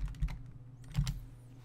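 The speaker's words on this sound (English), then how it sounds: "I'll just type in here." Keys clatter on a computer keyboard in short bursts, close and fairly soft, with a brief pause between two clusters of strokes and no talking.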